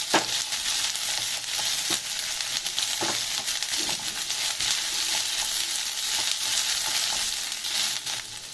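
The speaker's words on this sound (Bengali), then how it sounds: "তো আদা রসুনটা ফ্রাই হয়ে গেছে" Ginger, garlic and slit green chillies fry in a pan for a dhaba-style aloo palak, giving a steady, close, dense sizzle that crackles and spits on and on, with no talk over it.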